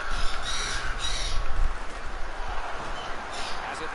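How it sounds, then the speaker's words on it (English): Pet birds give harsh, crow-like caws and squawks near the microphone in loose bursts over a steady background noise, with some faint talk mixed in. "I was listening to the birds."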